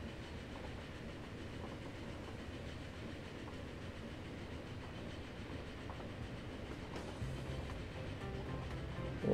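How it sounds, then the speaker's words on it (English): A train rolls along the tracks in the Transport Fever game, heading toward a diamond crossing, with a steady rumbling clickety-clack that swells slightly near the end. "I'm hoping that the other train will wait until that diamond crossing that we have lovingly set up."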